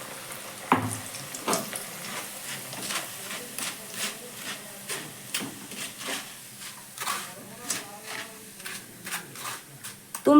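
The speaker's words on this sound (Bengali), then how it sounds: "অল্প অল্প করে চিড়ে দিয়ে পুরো চিড়েটাই কিন্তু ভেজে নেব" Flattened rice (chira) deep-frying in hot oil, added a little at a time, giving a close, steady sizzle with repeated bursts and stirring clatters throughout.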